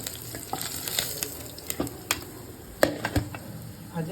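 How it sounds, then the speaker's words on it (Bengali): Pieces of country chicken meat fry in hot oil in a pan until reddish, with a steady sizzle broken by scraping and clinking stirring strokes, close up and with no talk. "মাংসগুলোকে আমি এরকম লালভাবে ভেজে নিলাম।"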